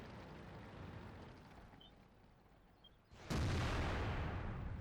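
A tank gun fires in World of Tanks, the Object 704 on Fisherman's Bay, with a sudden loud boom that rings out and lingers over faint background rumble.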